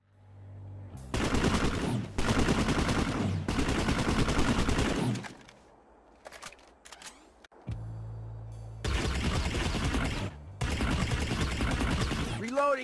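NC weapons fire in Planetside 2 in long bursts of rapid, muffled puffing shots, loud and close, broken by short pauses and a quieter stretch of game noise.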